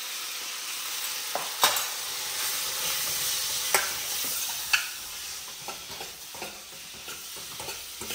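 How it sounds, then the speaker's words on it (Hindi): Kadai paneer gravy masala with salt, red chilli powder, garam masala and turmeric fries in a pan with a steady low sizzle, broken by a few sharp stirring scrapes and spatters, with no voices. "इसको 10 से 15 मिनट तक धीमी आंच पे भूनने के लिए रख देते हैं ढक के।"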